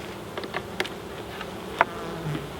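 Honey bees buzz around the entrance of a beehive, their hum close and steady with a few louder passes as individual bees fly near.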